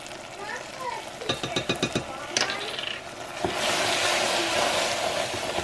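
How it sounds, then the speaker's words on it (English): Caramel for caramel corn boils up as baking soda and vanilla are stirred in, starting with a run of rhythmic scraping clicks from stirring and swelling into a loud, steady bubbling hiss. "this really boils up when you stir in the vanilla and the baking soda"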